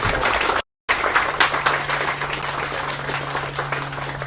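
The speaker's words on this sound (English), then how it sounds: "Can we give him a round of applause?" A crowd at a mall time capsule opening gives a round of applause, a thick, sustained patter of many hands broken by a brief dropout, with a low steady hum running beneath it.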